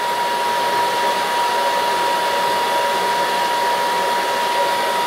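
A Monarch 10EE lathe runs with its half nut engaged, giving a loud, steady, broadband whirring hum with a constant tonal whine, unchanging throughout.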